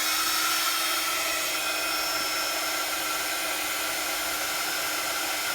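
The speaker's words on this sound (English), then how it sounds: "So I'm going to be using my heat tool." Heat embossing tool blowing hot air, a loud, close, continuous whooshing hiss with a high whine, holding steady throughout.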